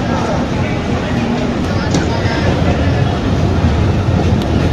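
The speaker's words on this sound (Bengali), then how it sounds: "এই ট্রেনটি আবার কিন্তু সেই চুলকাঠি যে স্টেশন, এই স্টেশনটি ছেড়ে বেরিয়ে যাচ্ছে।" A train pulls out of Chulkathi station on the Khulna to Mongla line, giving a steady, dense rumble and rolling wheel noise that stays loud and even throughout.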